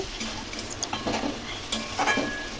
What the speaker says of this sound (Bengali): দেখুন আমি খুব ভালো করে কষিয়ে নিচ্ছি